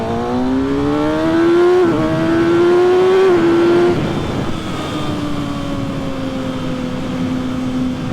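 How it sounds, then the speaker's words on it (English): A 2024 Kawasaki ZX-6R motorcycle accelerates hard with a loud, rising engine whine. Two quick-shift upshifts briefly drop the pitch, and then the engine settles into a lower, steady drone as it pulls away. "I quick shifted up into second when I wanted to leave it in the first"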